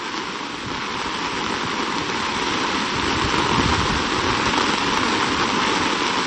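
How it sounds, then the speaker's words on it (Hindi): Heavy monsoon downpour over Islamabad, a dense, steady roar of rain hammering surfaces without a break, loud and close throughout. "शहर के मुख्तलिफ इलाकों में मूसलाधार बारिश हो रही है।"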